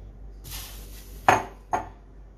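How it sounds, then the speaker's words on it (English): Peas tipped into a pan for pesto alla Genovese pasta: a soft rattling pour, then two sharp metallic clanks close by, in a quiet kitchen. "chucking our peas"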